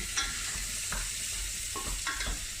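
Onions frying in a hot pan for a vegetable lasagna, a constant close sizzle with several scraping stirs of a utensil spaced through, quiet and without talking.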